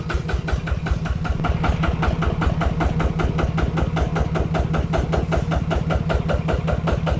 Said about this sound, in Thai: ี๋ยวฟังเสียงเครื่องยนต์นะครับ